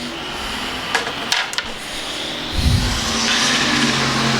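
Hobby Stock A Scramble stock cars racing on a dirt track at the I-35 Show Me Spectacular: engines roar loudly and steadily, with a few sharp knocks early and a swelling, revving surge as cars pass close by.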